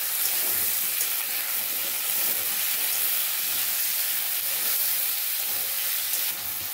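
Onion sizzling and frying in a pan while being stirred, cooked as the base for a fish roe dish; a steady close hiss runs throughout with faint scraping, no talk.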